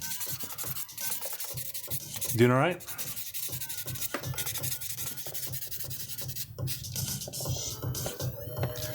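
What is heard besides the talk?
sanding glued seam lines on a plastic model kit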